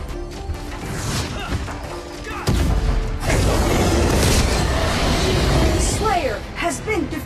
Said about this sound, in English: A red team tower has been destroyed.